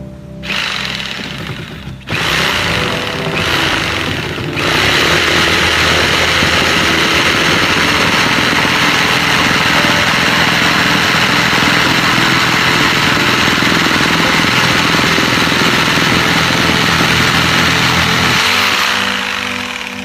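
A power jigsaw rough-cutting a wooden board into a handle shape, a loud continuous buzzing rasp that starts after a couple of brief bursts and runs steadily before slowing near the end.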